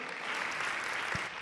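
A church congregation applauds steadily, a dense wash of clapping held at even strength throughout, with no voices standing out.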